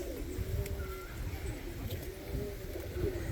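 A pigeon hen in a loft coos in low, soft mumbling phrases over steady background hum, with faint distant chirps.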